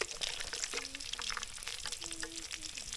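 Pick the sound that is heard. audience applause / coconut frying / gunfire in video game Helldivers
coconut frying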